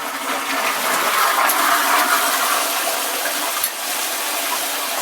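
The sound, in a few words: toilet cistern refilling through old brass ball cock valve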